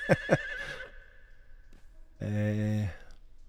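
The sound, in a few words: horse neighing and hooves, from video game Conan Exiles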